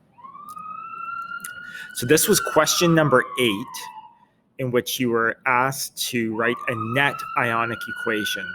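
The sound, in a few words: police sirens in downtown London street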